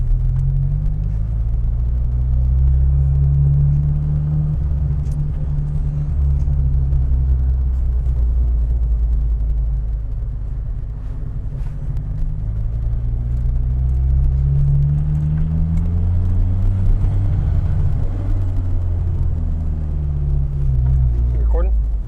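A turbocharged car with a welded differential drives along, its deep engine rumble droning loud and close throughout with small surges in pitch, while people talk over it.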